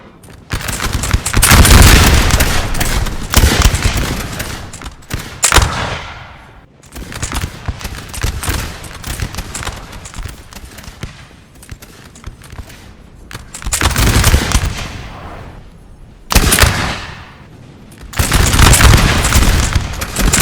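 Artillery firing canister shot in a Napoleon Total War multiplayer battle, heard as several loud, booming volleys of massed gunfire separated by quieter stretches of distant battle noise.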